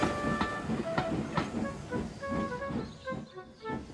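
A small narrow-gauge steam engine pulling a train of coaches, a continuous chuffing rumble with rhythmic clickety-clack of wheels on rails and a steady hiss, close and fairly loud, no voices.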